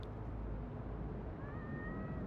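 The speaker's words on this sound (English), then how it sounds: "That was a cat." A cat meows in the Road to Vostok video game, one faint drawn-out mew rising over a low constant rumble of ambient noise.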